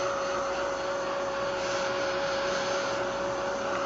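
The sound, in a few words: heat tool drying scrapbook layout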